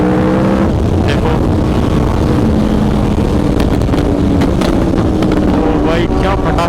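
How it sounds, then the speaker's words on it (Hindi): An Aprilia RSV4 superbike on the road roars loudly under heavy wind buffeting, with several sharp exhaust pops and crackles bursting out in the second half. "ओ भाई क्या पटाखे मारती है रक्षित की बाइक"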